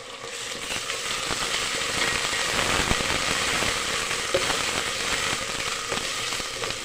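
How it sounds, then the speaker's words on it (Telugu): Ginger garlic paste, about two tablespoons, fries in a pan for chicken biryani, giving a steady, dense, close sizzle with fine crackles and small pops throughout and no talking over it. "పచ్చివాసన పోయేదాకా ఫ్రై చేయండి"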